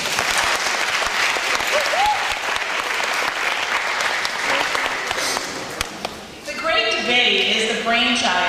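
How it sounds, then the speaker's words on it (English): Sustained audience applause fills the room for debate students at an academy event, steady and dense. Near the end it fades and a voice begins speaking. "Let's give them another round of applause."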